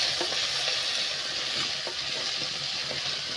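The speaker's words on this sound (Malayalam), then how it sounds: "അതുകൂടി ചതച്ച് നമുക്കിതൊന്ന് നല്ലോണം വഴറ്റിയെടുക്കാം." Crushed garlic, ginger and shallots sautéing in a pan for a mackerel and mango fish curry, a continuous close sizzle with occasional faint stirring clicks.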